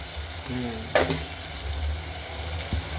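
Eggplant chutney with salt being stirred in a pan over low heat, a soft sizzle under a couple of scraping spoon strokes and a brief clatter, close by, with faint background voices.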